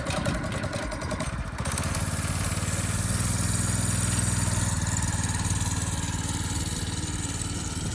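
A small go-kart engine runs loudly and close by, a steady mid-pitched drone that settles in after a brief rougher start and holds throughout.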